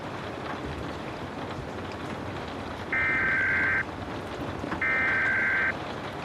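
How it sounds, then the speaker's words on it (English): Steady rain falls under a dark post-apocalyptic sky, a dense unbroken hiss that holds level throughout, interrupted twice by short bright electronic tones like radio static beeps. "The rain's been coming down steady since last night"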